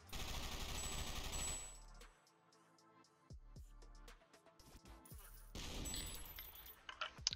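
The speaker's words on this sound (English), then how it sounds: "I shall shoot him." Video game gunfire comes in rapid automatic bursts, faint and clicky, with two dense stretches of shooting separated by scattered single shots and small metallic clicks.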